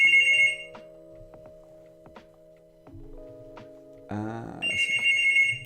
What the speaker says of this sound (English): Give me 1 second and that phone call will stop.